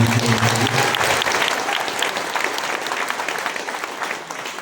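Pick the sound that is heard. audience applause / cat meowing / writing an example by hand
audience applause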